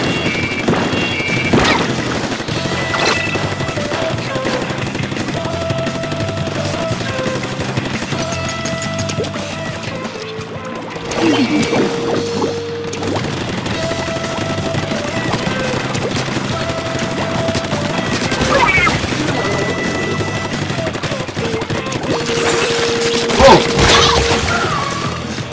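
Ink bombs burst repeatedly in a Splatoon match on the Moray Towers stage, dense loud blasts and splatters piling over continuous game music and effects, with sharper crashes near the end.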